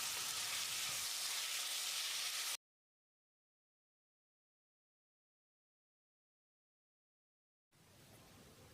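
Chopped tomatoes and onions with salt sizzle in hot oil in a pan for vegetable pulao, a steady close hiss that breaks off into silence and then resumes more softly.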